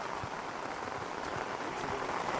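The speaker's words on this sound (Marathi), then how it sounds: "मस्त पाऊस टाकतो आहे दोन दिवस झालेत" Steady monsoon rain in Konkan at night patters on surfaces nearby, a soft continuous hiss with scattered drips, no voices.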